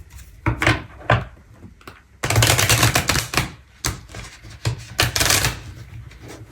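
Slippery oracle cards are shuffled in a tarot-style reading, giving bursts of rapid riffling and flapping with soft thumps between them, close and fairly loud, and no voice is heard.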